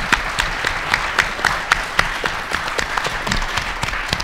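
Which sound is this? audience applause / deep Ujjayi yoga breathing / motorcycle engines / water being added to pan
audience applause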